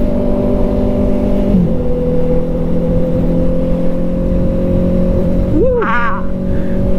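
Honda CB650R motorcycle on an expressway, engine running steadily close up with a brief rising rev near the end, under faint voices.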